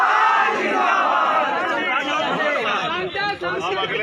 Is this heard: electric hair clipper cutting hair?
no